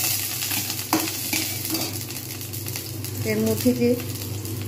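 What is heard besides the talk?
onions frying and being stirred in hot oil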